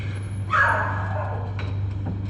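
One short dog bark nearby over a steady low hum inside a dark Barcelona apartment building, followed by fainter yips.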